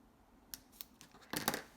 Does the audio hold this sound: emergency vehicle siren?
no